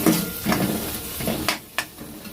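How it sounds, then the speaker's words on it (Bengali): Tomatoes sautéed and stirred in a pan with a little salt and a few grains of sugar. Close, hissing sizzle broken by several quick scraping strokes of a spatula, with no voices. "টমেটোগুলো দিয়ে দেবো, দিয়ে ভালো করে কষাতে হবে।"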